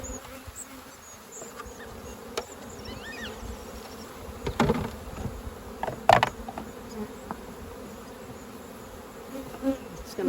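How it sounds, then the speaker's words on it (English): Honey bees drone and buzz around an open hive during an autumn Varroa mite check, a steady close hum with individual bees passing near and occasional handling clicks and knocks. "I think we've got more than enough bees on that one."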